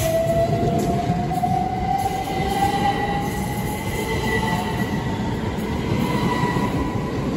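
A Class 387 electric train passes through a station at night, a steady loud rumble of wheels on rail with a rising metallic squeal running throughout, close and continuous with no talk.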